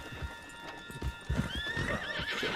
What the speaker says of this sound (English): on the back of John's horse